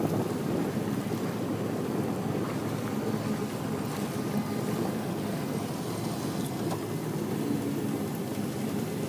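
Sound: wind

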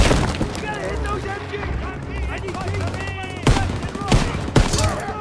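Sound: machine gun fire in Call of Duty WWII video game

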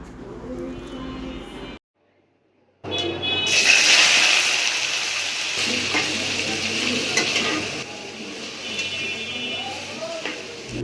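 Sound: pumpkin being stir-fried in a pan

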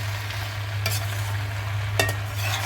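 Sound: stirring dried fenugreek into frying arbi masala

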